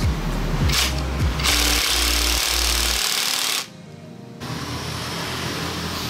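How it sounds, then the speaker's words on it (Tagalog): An impact wrench hammers loudly at close range on the CVT of a Honda Click V3 scooter in bursts, with a short pause before a lower-level buzz resumes. "So impact wrench na natin siya mga boss."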